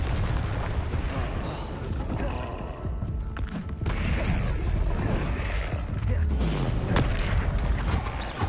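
Repeated fiery blasts of the Confringo spell in Hogwarts Legacy on PS5, a steady run of booming explosive bursts over dense game noise, with no clear spoken voice.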